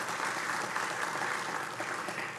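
Steady applause from an audience, a dense continuous patter of clapping that holds evenly for a couple of seconds.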